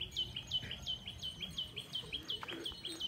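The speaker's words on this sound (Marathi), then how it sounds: "सकाळ सकाळ चिमण्यांचा, पक्ष्यांचा, सगळ्यांचा कालवा कालवा कालवा." Faint, rapid sparrow and bird chirps repeat in a quick, regular series in the morning after rain, with soft background rustle and no voices.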